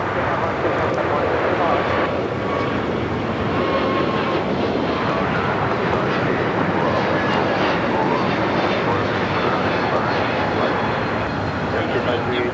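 An Airbus A321neo jet bound for Atlanta, Georgia, rumbles at Los Angeles airport, a steady broadband jet roar at moderate distance with a voice talking over it.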